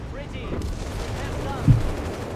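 Sturmpanzer IV guns firing in Company of Heroes 3, with short gunfire cracks and a single heavier boom under steady commentary from a caster, plus battle noise in the background.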